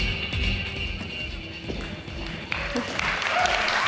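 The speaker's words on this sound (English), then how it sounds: "Thanks for the warm applause." Crowd applause at the E3 2019 PC Gaming Show fills the space, a steady wash of clapping with people talking over it and a few sharper claps standing out.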